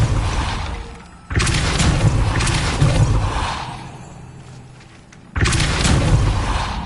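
Confringo and Capulso spell blasts from the game Hogwarts Legacy: two loud, booming bursts a few seconds apart, each rumbling and slowly fading, with no voices.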